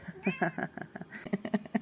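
A house cat meows in a series of short, close, insistent cries from a window ledge indoors, with a voice mixed in among them.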